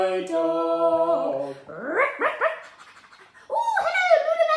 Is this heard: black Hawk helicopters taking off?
no